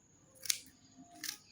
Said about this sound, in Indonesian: ini saya sudah gunting-gunting